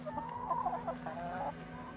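Hens clucking steadily in a backyard flock kept for laying eggs, a close, continuous run of soft calls layered over one another across the whole stretch, with no talk.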